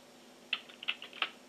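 A few soft, quick keystrokes on a computer keyboard, faint and close, with short pauses between taps against quiet room tone.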